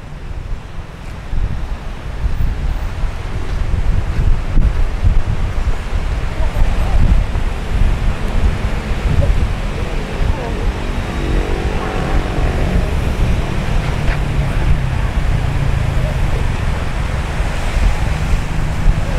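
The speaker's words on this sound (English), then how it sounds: "The sea's a little bit choppy out there." Choppy sea at Jomtien Beach in Pattaya, Thailand: continuous roaring surf with heavy wind buffeting the microphone, loud and steady throughout.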